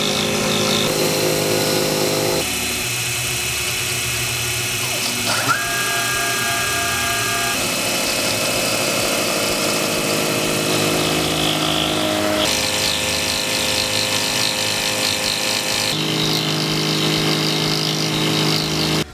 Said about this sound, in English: this CNC is important, so that you can go and route the edge and come around the corner that way